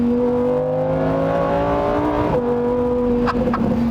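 Lamborghini Huracán Performante engine revving up in a smooth climbing whine, dropping abruptly, then settling into a steady idle with a couple of sharp blips near the end, loud and close with no talk.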